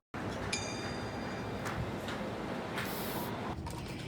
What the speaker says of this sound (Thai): ฉีดสเปรย์แบบนี้